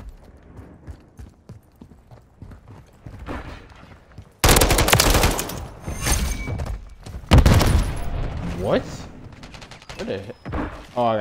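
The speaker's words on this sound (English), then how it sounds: "Oh, I got shot by a sniper." Gunfire in the multiplayer shooter Call of Duty: Modern Warfare III (2023), including a sniper rifle, loud sharp shots and bursts ringing out over a noisy battle with footsteps, while players talk.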